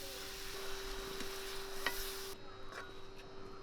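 Spice powders with black pepper, garam masala and asafoetida being sautéed and stirred in a pan for chicken pickle, a soft continuous sizzle with light stirring, fairly quiet, and a brief clatter near the end.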